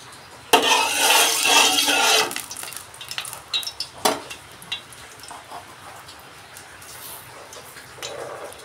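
Moong dal fries in mustard oil in a wok: a loud burst of sizzling comes first, then fades into scattered scrapes and clinks of stirring, with no voices.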